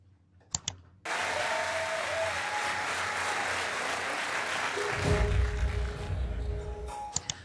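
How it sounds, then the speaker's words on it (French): An audience at a show's quarter-final stands and applauds, and dense, loud clapping breaks out suddenly after a few isolated claps, then swells and continues steadily. "Ils sont debout, ils applaudissent"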